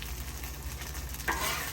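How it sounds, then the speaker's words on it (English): Pulled pork is tossed in barbecue sauce in a hot pan, with a soft, close, continuous sizzle and stirring that grows briefly louder near the end. "Add in some barbecue sauce to the pulled pork to kind of toss it in"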